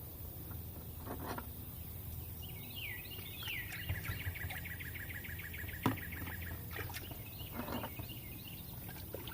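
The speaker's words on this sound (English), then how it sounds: "the birds are happy today. Can you hear them?" Birds sing outdoors, one bright trilling song with rapid repeated notes standing out over a steady wash of background noise and a few soft knocks.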